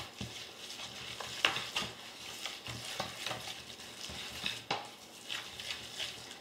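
Applesauce, carrot and oat treat dough stirred in a bowl, a soft, wet scraping and clicking of the spoon against the sides in an irregular rhythm, close and fairly quiet with no talk.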